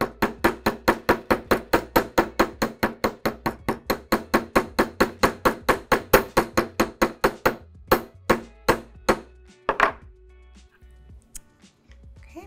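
Rapid rhythmic hammer blows strike a metal coil being shaped into a coiled bypass ring, dozens of sharp close clanks in a steady fast beat that slows and scatters near the end, then shuffling handling noise.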